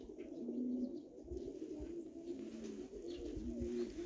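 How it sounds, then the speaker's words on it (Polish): Pigeons coo in a loft, their low, steady murmuring layered and continuous throughout, fairly close with a faint background hum. "No ale gołąbki są już przygotowane."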